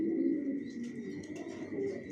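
A male racing pigeon in a loft coos softly while sitting on eggs. The low, throaty calls are close, with light chirps in a quiet room.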